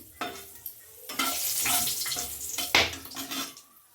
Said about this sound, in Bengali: ওই তেলেই ফোড়নে দিচ্ছি তেজপাতা, শুকনো লঙ্কা, এলাচ, দারচিনি, লবঙ্গ।